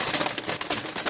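Caged pigeons offered for sale shuffle and coo close by in a brief, loud burst of rustling and soft bird calls.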